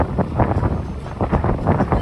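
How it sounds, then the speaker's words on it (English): Gusty wind buffets the microphone outdoors on South Beach, Miami, in rumbling, uneven bursts, loud and close, with no other clear sounds. "It's a little windy."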